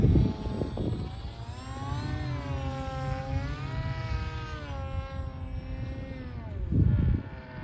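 A small model airplane on its first flight, its propeller motor whining steadily and bending in pitch as it passes, with loud wind buffeting near the microphone at the start and end.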